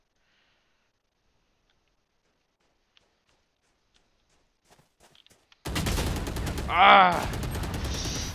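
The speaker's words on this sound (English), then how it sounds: "I should have held that sniper shot." Sniper rifle fire in the game Valorant: after a long near-silent stretch with a few faint ticks, a sudden loud, sustained blast of gunfire and game noise erupts, with a brief shout from a player partway through.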